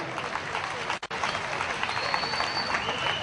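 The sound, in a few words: applause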